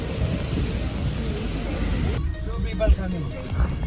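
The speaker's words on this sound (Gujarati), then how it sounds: "વરસાદ ચાલુ છે ફૂલ હેવી." Heavy rain pours steadily during a downpour at a venue in Da Nang, Vietnam, a dense loud hiss with a deep rumble of thunder beneath, while people talk nearby over the storm.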